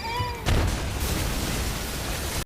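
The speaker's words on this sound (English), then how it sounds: "killing the judge in a violent explosion" A sudden loud blast breaks in after a brief tonal sound, followed by a sustained roaring, crackling rumble that cuts off abruptly.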